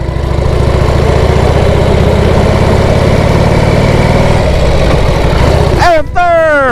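A 1968 Harley-Davidson police trike engine rumbles loudly and steadily, then briefly drops before revving up in rising whines as it shifts through first, second and third gears.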